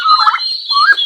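A farm turkey gobbles in two rapid, warbling bursts separated by a short pause, loud and close, with no talking over it.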